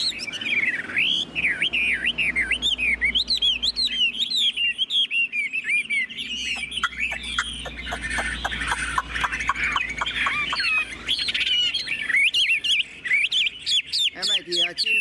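A caged Chinese hwamei (họa mi) sings loud, varied song up close, with rapid warbling phrases, sweeping whistles and fast repeated notes running continuously with only brief pauses.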